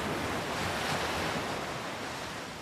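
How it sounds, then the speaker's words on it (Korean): Large ocean waves surge and crash in a continuous, loud roar of broadband surf, with wind mixed in and no voices. "큰 파도가 밀려오고 있어!"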